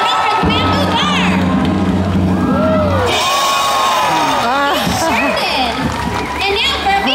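An audience at a SeaWorld sea lion show cheers and shouts, with children's voices prominent in the crowd. The loud, sustained roar carries over the whole stretch, while amplified voices speak above it.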